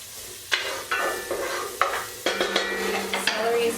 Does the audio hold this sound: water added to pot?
no